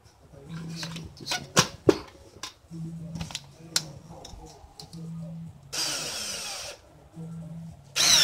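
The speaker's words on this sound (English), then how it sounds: "Get a drill, drill the pilot hole" A power drill bores a pilot hole for a front speaker mount on a Sea-Doo jet boat, with one loud whirring burst of about a second amid scattered clunks, knocks and a low hum.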